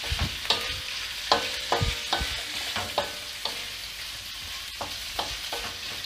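Lamb kavurma meat sears and sizzles in a hot pan while a spatula stirs it, sending sharp scraping knocks every half second or so over a constant loud frying hiss.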